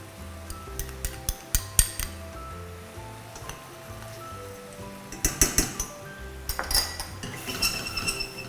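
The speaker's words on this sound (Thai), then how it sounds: "ใช้การเขย่าภาชนะเพื่อให้เนยเนี่ยสัมผัสกับตัวสต๊อก หรือว่าซอสเรานะครับและและกลายเป็นเนื้อเดียวกันนะครับ" A pan shaken to work unsalted butter into a lemon butter sauce for chicken thighs, giving bursts of metallic clinks and rattles of cookware, some sharp and close, in loose clusters with pauses between.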